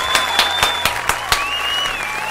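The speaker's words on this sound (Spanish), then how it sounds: "Lo saludamos con un fuerte aplauso." An audience claps to welcome a guest speaker in Argentina, with a handful of distinct, evenly spaced claps over a steady crowd murmur and a faint sustained tone.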